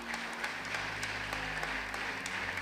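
A church congregation in Martinique applauds Jesus Christ during a worship service, with steady, dense clapping filling the room, fairly loud and continuous from start to finish.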